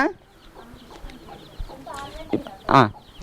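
Several chicks and chickens cluck nearby in short bursts, growing louder toward the end, with faint voices in the background.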